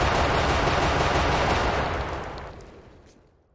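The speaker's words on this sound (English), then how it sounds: "So I can reload, and then get back out and shoot him." Rapid continuous automatic gunfire in a VR shooter video game, a dense loud burst that runs for about two seconds and then fades away to quiet.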